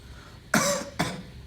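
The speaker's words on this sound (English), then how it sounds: "I'm now going to ask the patient to cough." A patient gives two sharp coughs during an abdominal examination, the first louder and longer, the second shorter about half a second later, close and clear against a quiet room.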